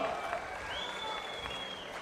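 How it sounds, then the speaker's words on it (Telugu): Faint, steady applause from an audience at a public meeting addressed by Chandrababu Naidu in Chilakaluripeta, a sustained patter of clapping heard from a distance for the whole moment. "గట్టిగా చప్పట్లు కొట్టి మళ్ళీ ఒకసారి వీళ్ళు బాగా చేసిన వాళ్ళు అభినందిద్దాం"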